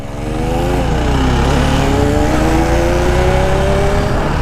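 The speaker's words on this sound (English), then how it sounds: "This guy is trying to race against the RD on a Polo TSI." A Volkswagen Polo TSI accelerates hard on an open road beside a motorcycle, its rising engine note blending with steady loud wind rush and engine drone up close, heard without talk.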